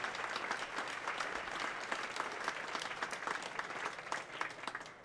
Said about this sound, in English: Could we give a huge, big round of applause for the student musicians